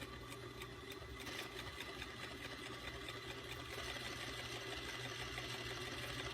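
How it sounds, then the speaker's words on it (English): A sewing machine stitches stretch binding onto fabric with a steady, rapid mechanical whirr that runs without a break, close up and alone. "So I'm going to now just follow that line sewing."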